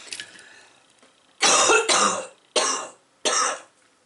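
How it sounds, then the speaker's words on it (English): A woman coughs in a quiet room during a craft session, four loud, harsh bursts after a faint stretch, each roughly half a second long with short pauses between them. "please excuse my coughing"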